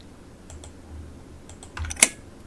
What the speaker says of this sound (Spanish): Este clic